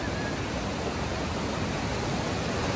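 A waterfall near Khopoli pours down in a steady, dense rush of water, loud and unbroken throughout with no voices.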